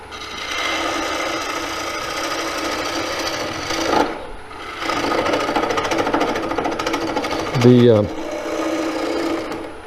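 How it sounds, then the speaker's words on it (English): Rough, scraping noise of a lathe gouge turning a square wooden bowl, with a rapid chattering rattle near the end as it hits end grain, loud and continuous over a steady machine hum. "That chattering sound you hear when you get to the very end grain"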